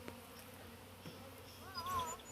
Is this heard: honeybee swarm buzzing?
yes